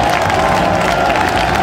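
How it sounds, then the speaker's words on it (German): A crowd at a Gamescom 2015 stage show applauds and cheers in a loud, continuous roar of clapping and voices that fills the whole stretch. "Mal einen Applaus für Brunhilde"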